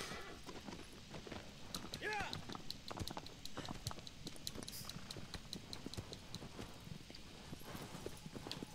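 Rhythmic hoofbeats of a galloping horse in the video game Shadow of the Colossus clatter steadily throughout, with a brief whinny and people talking over the top.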